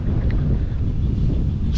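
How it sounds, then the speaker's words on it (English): Strong wind blows across an open outdoor lawn being mowed, a steady roaring rumble buffeting the microphone, loud and constant with no voices. "It's windy today, man. It's windy out."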